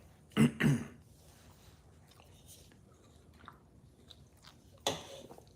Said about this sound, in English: Fuck this cough.